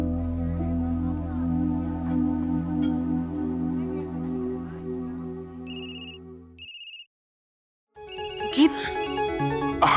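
A telephone rings in short bursts of bright electronic tones over background music, with a brief pause of silence between rings.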